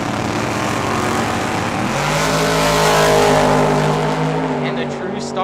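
Two drag-racing cars, a 1967 Chevelle and a 1971 Vega, idle and rev at Tucson Dragway. Their engines make a loud, steady rumble that swells and climbs in pitch midway, then eases slightly.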